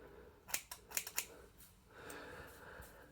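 Scissors snip through hair in a lockdown home haircut, giving about five crisp close cuts in a quick irregular cluster, followed by a soft rustle.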